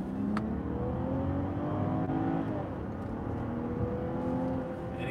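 A 2021 Land Rover Range Rover P400 HSE Westminster Edition accelerating in sport mode, its engine drone climbing steadily in pitch through the gears, heard from inside the cabin as a continuous, moderately loud hum with no talking.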